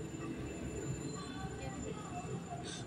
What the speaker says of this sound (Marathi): समोर मेट्रो जात आहे